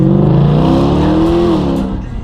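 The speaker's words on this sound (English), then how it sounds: "let y'all boys hit this raw V8 engine real fast" A raw V8 car engine revs hard and close, a loud, thick rumble that holds steady and rises slightly before easing off near the end.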